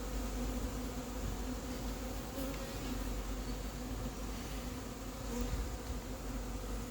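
Hornets invading an apiary, a dense continuous buzzing of many insects flying close around the hives, steady and unbroken with slight swells.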